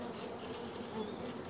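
Honeybees hum around an open hive's frames, a dense, steady, faint swarm drone close at hand with no other sounds.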